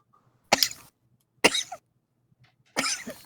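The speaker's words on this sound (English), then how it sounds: "I was just clearing my throat." Three separate throat clearings from one person outdoors at night, each a short rough burst with quiet pauses between, close and fairly loud with no talk.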